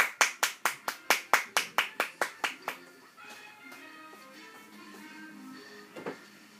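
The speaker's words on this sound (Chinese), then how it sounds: "快点拍手" A mother claps her hands at home: about a dozen sharp, evenly paced claps close by that fade in strength, followed by a quiet room with faint, soft sounds.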